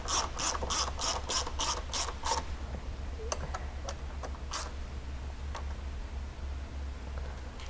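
A ratchet clicks in a quick run of about eight even strokes while 6mm bolts are tightened on UHMW skid plates on a Polaris RZR. Sparse single clicks and light handling taps follow, close and fairly quiet.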